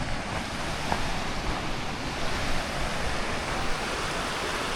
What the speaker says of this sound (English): Alright guys, so here's the creek.